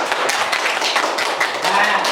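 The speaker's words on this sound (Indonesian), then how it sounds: "Beri tepuk tangan untuk kedua temanmu yang sudah menjawab pertanyaan" Primary school classroom applause for two students, a couple of seconds of lively steady clapping from a group of children, with some voices mixed in.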